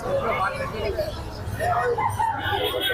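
Native chickens and a rooster at the Mirpur 1 poultry market: a rooster crows and hens cluck steadily at close range, mixed with people talking over the busy market din.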